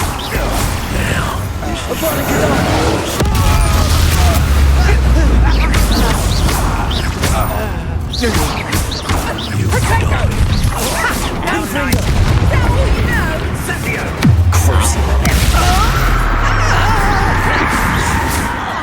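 Confringo and Expulso spells blast in Hogwarts Legacy, with loud booming explosions and crackling magic over dense, continuous game sound, mixed with voices.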